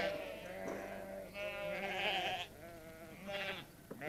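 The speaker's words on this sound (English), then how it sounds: "I'm in charge of these 20 acres, on which I keep about 50 sheep," A flock of sheep on a small farm of about fifty head bleats in overlapping calls, several wavering cries rising and falling at moderate distance over steady background.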